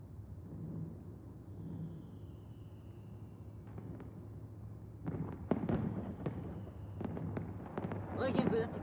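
Fireworks go off at a distance as scattered sharp pops and crackles, growing busier toward the end, faint beneath a low background hum and people talking.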